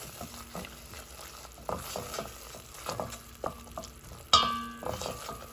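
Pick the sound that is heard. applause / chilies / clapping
chilies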